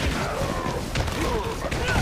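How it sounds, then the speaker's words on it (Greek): Fireworks exploding in the Dying Light video game: a dense, continuous crackle of bursts and booms with sharper pops near the middle, loud and steady throughout two seconds of game sound. "Κοίτα τα πυροτεχνήματα, τι ωραία που είναι!"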